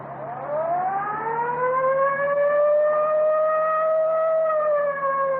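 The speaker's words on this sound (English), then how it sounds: "Yeah, I'll get the siren." A police car siren rises and holds a loud, sustained wailing tone close by, climbing in pitch at the start and then steadying over an engine hum.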